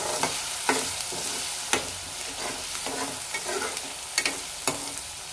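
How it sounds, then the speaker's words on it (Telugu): Ginger garlic paste fries in hot oil with a steady sizzle, while a spoon scrapes and taps the pan in irregular strokes every second or so, close and loud, with no talk. "ఈ అల్లం వెల్లుల్లి పేస్ట్ కూడా మంచిగా వేపుకోవాలి ఆయిల్లో"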